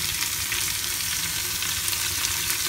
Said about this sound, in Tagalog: Stir lang po natin ng kaunti.